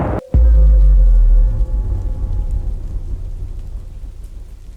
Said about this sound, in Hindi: रास्ते में जोर की बिजली कड़की